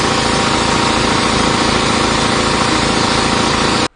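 A Harbor Freight 3hp compressor head mounted on a Sears air compressor runs loudly and steadily with a dense mechanical drone and rapid pulsing, then cuts off abruptly at the end.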